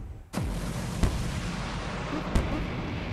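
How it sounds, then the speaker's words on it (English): Cannon shots from a platformer video game boom out in three separate sharp blasts at irregular intervals, each a hard thump that fades over a steady game background, with no talking. "Why is there a cannon at the start?"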